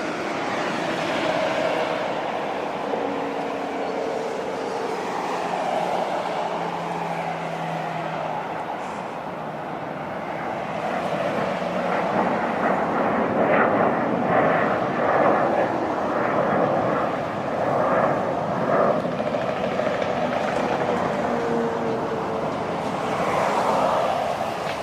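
A Boeing 737-7 airliner taking off from Las Vegas, a steady, moderately distant jet engine roar that swells and rumbles over about twenty-five seconds with no talk.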